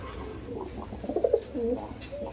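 Tournament-quality Madrasi pigeons give a few short, low coos nearby, a brief burst of throaty calls over light background noise.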